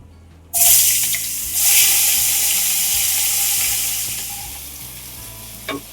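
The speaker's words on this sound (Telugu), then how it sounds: "ఇప్పుడు అదే నూనెలో కట్ చేసి పెట్టుకున్న ఉల్లిపాయ ముక్కలు, పచ్చిమిర్చి వేసేసుకోవాలి." Chopped onions and green chillies are dropped into hot oil, setting off a sudden loud sizzle that stays strong and steady before slowly fading, with a light clink near the end and no talking.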